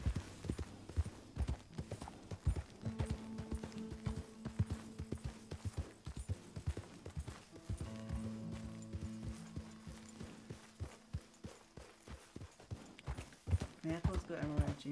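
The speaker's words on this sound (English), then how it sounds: "this horse goes too fast." Horse hooves pounding in Red Dead Redemption 2, a quick repeating clip-clop gallop running throughout, blended with creaking tack and game sounds while someone talks over it.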